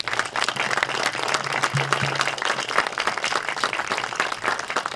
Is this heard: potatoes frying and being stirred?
no